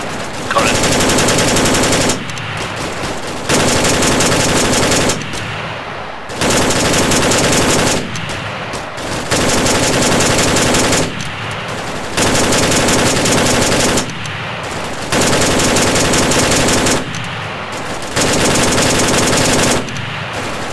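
A tripod-mounted weapon in Arma 3 fires in about seven loud, sustained bursts of roughly two seconds each, separated by short pauses, with no voices.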